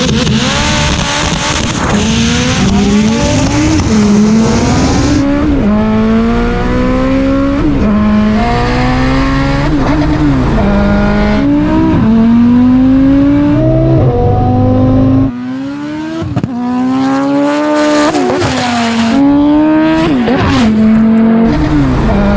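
An Audi RS3 and a Mitsubishi Evo VIII, both all-wheel drive, roar through a drag race with loud, close engines climbing repeatedly through the gears, each rising pitch cut by a shift, sustained and aggressive throughout.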